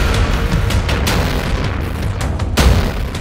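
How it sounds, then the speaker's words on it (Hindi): An Israeli missile strike explodes in Nuseirat, Gaza, a loud, close, sustained roar of blast noise with a fresh burst of debris and rumble near the end, no voices. "इजरायली मिसाइल का धमाका कितना जबरदस्त है।"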